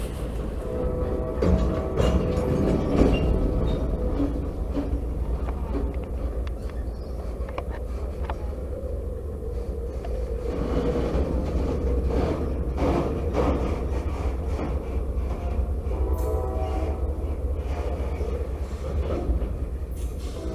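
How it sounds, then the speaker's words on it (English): A Norfolk Southern freight train rumbles steadily past as a continuous heavy roar, while its horn sounds faintly in the distance through the noise. "train horn that you can hear in the distance is actually the Norfolk Southern train that's coming through"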